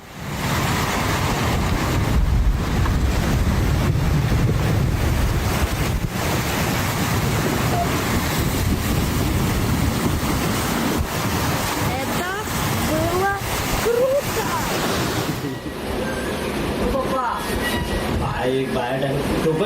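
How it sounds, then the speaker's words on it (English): Hundreds of ice blocks break free and grind together on Russia's Lena River as the frozen surface cracks apart in the spring thaw, a continuous loud rushing rumble with wind buffeting and a voice over it. "Hundreds of ice blocks are breaking free on Russia's Lena River as the frozen surface begins to crack apart"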